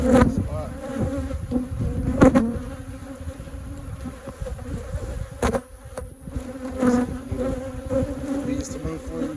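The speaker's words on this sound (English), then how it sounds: "These bees, they're mad at me." Honey bees buzzing loudly and continuously up close around an open hive while a honey super is added, a dense swarm drone with occasional sharper passes and faint clicks.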